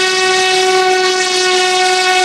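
A small RC model plane's engine screams with a loud, harsh, steady tonal drone right after launch, close and continuous, with no speech.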